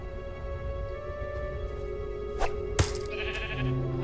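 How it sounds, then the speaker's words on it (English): Sheep bleats from the Minecraft: Story Mode video game, two short sharp cries close together followed by a higher bleat, clear over a steady musical game drone with no talking. "A sheep? Wow, okay."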